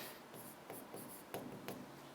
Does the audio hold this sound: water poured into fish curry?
no